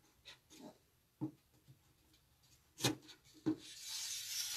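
Wooden stretcher bars rub and knock as they are wiggled together at notched joints, giving several short, close scraping and tapping sounds with gaps between them, followed by a soft hiss at the end.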